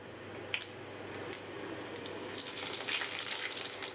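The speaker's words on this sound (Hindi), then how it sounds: "तेल जैसे गरम हो जाएगा हम डाल देंगे 1 चम्मच साबुत जीरा।" Whole cumin seeds sizzle in hot oil in a pan while cooking a parwal and egg recipe, a steady close frying hiss with light crackles and pops that grows slightly denser toward the end.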